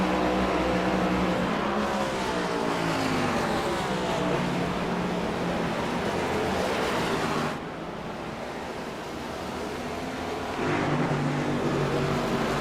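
Race cars lap the Sonoma circuit in iRacing, with a continuous roar of engines rising and falling as cars pass, dipping briefly before swelling again, with no voices.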